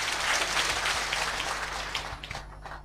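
Applause from a meeting audience at a Bharat Swabhiman state meeting in Kolkata, a dense burst of many hands clapping that holds steady and then thins out and fades toward the end.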